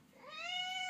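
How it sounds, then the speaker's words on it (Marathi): A domestic cat gives a single drawn-out meow at close range, rising in pitch and growing louder toward the end. "ए माऊ, तीच मांजर आहे ना आत्याच्यातलं?"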